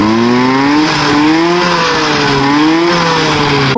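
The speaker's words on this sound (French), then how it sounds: "Le moteur monte bien" Hybrid moped engine revving up loudly and close, its pitch climbing and falling in repeated waves as the throttle is worked, with no talk over it.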